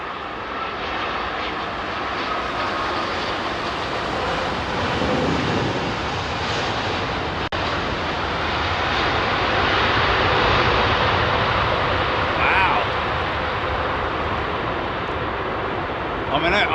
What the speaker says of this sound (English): That's a Dreamliner.